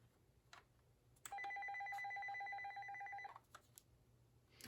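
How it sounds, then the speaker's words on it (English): A RadioShack Uniden ET-3577 900MHz analog amplified cordless telephone handset rings once, a sustained two-tone electronic warble lasting about two seconds, heard alone in a quiet room with faint clicks before and after. "But of course this ringer is still plenty audible."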